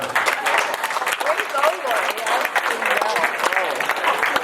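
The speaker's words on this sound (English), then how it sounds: "How about one more round of applause for Lori and Jason?" Wedding guests applaud Lori and Jason after a toast, a lively burst of clapping with sharp individual claps standing out, cheers and chatter woven through it.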